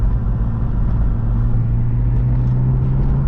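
Supercharged BMW E36 M3 pulling hard on a drive, a loud, steady low engine drone with a rising hum heard from inside the cabin, continuous and close, no talk over it.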